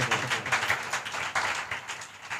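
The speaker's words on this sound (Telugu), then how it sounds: "చప్పట్లు కొట్టండి." A church congregation claps their hands together in a sustained, dense burst of applause, many overlapping claps forming a steady rhythmic patter that fills the room at moderate loudness.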